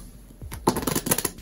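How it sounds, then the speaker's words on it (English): Playing cards riffle-shuffled up close: a brief buzzing ripple of cards flicking together at close range, loud and dry, with no talk over it. "the riffle shuffle is this one"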